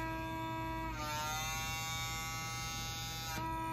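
A PMD microderm device runs with its suction engaged, a steady electric buzz with harmonic whine that rises in pitch and intensity for about two and a half seconds as the suction takes hold, then drops back to the idle hum.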